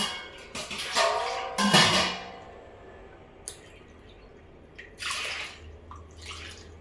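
Water is poured over washed toor dal in a cooking pot, splashing in a couple of short bursts followed by lighter trickles and drips, close and fairly loud.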